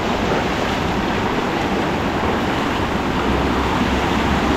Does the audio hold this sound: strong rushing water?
yes